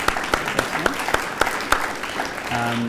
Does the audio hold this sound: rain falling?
no